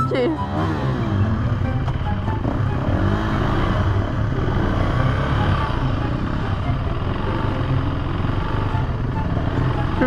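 Two KTM supermoto motorcycles, a 450 EXC-F and a 390 SMC R, ride close by on a warm-up lap, their engines droning loudly and steadily with rising revs and mechanical clatter throughout, while voices talk over the engine noise.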